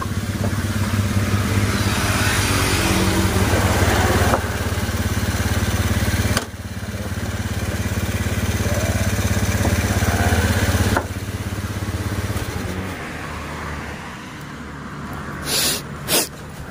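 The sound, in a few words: motorcycle engine idling after starting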